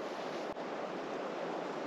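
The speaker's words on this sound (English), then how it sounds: "Wind's blowing straight out of the west." Steady outdoor wind buffeting a microphone on public land in South Mississippi, a broad continuous rushing roar with one brief dip, close and fairly loud with no talking.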